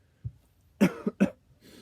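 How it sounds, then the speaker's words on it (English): Several coughs from a person at a prayer and Bible study gathering: one soft cough, then a pair of loud, close hacking coughs, with a faint rustle at the end. "it makes you cough"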